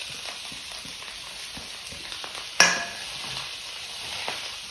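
Chopped vegetables, including wilting greens, fry in a pan with a steady soft sizzle, broken by scraping stirs and one sharp clatter of a utensil against the pan.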